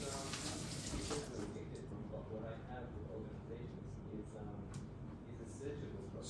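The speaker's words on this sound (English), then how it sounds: "press the double or the single and let it rinse now. That's going to clean the basket and the shower screen" Breville Barista Express BES870 espresso machine rinsing water through the filter basket and shower screen, a steady faint trickle and hiss of running water with a low machine hum, continuing unbroken.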